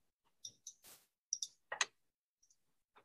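A computer mouse clicks sharply several times in a quiet room, single and double clicks spaced irregularly, close and isolated.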